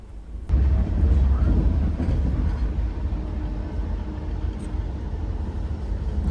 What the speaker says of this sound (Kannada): ಓವರ್ಟೇಕಿಂಗ್ ತೆಲಂಗಾಣ ಎಕ್ಸ್ಪ್ರೆಸ್ ನೋಡ್ರಿ